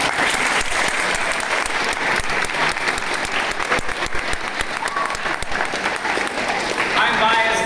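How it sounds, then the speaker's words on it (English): Sustained audience applause at a youth music group event in Middle Tennessee, dense steady clapping filling the whole stretch, with a few voices and cheers rising near the end. "So let's give them a round of applause."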